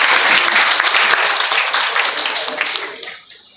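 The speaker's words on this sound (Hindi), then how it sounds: "तालियों से एक बार हम बच्चों का उत्साहवर्धन करेंगे" An audience at an international college seminar welcome ceremony applauds students with loud, dense clapping that holds steady, then thins and fades out near the end.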